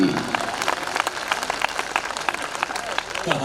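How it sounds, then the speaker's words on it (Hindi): An audience at a Hindi comedy and humorous-poetry show in Bhilwara claps in a scattered burst of applause lasting several seconds, with voices mixed in. "तालियां कम हैं आपकी।"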